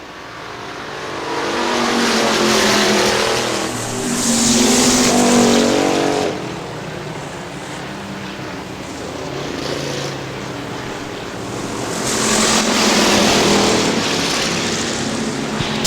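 Factory stock race cars roar around Hartford Speedway in Michigan, their engines swelling loudly as packs pass, easing between laps, then surging again.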